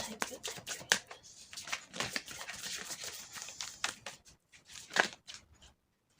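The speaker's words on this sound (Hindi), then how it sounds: "कार्ड्स भी स्मूथली शफल नहीं हो रहे हैं" Tarot cards being shuffled by hand, a steady run of soft riffling, flicking and slapping bursts that stop and start, close and fairly quiet, alone without talk.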